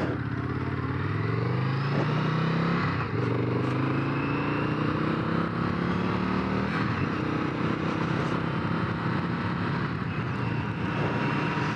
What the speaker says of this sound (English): And the engine braking on this bike is phenomenal